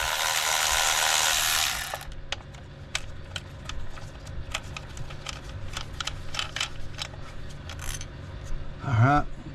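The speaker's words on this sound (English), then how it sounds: "pull the bolts out, drop it in the pan" Rapid ratchet clicks in short bursts from a hand ratchet on an 8mm socket, backing out ignition coil bolts on a Ford F150 3.5L engine. A loud rustling start gives way to repeated close clicking, with a brief voice near the end.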